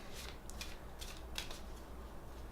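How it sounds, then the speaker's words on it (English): Playing cards riffled through a slow overhand shuffle for a board game setup, a series of soft papery flicks and slides in quick irregular bursts, close and quiet with no voices. "I would usually be going with a nice overhand shuffle like this for quite some time"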